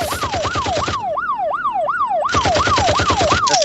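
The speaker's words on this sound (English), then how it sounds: "So I just put I have 2 police sirens" Police siren sound effect played from a soundboard, loud and continuous, with a repeating rising-and-falling wail over a steady low engine-like rumble, briefly thinning to the bare whooping tone midway.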